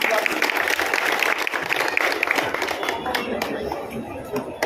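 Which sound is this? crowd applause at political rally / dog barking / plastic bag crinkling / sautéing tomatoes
crowd applause at political rally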